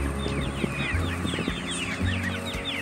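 Several farm chickens clucking and chattering nearby in overlapping bursts, with low thumps and rustling underneath; no one speaks.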